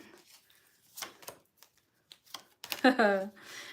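Tarot cards shuffle and riffle in short papery bursts during a live tarot reading, with a quick flurry near the end, while a voice talks softly over part of it.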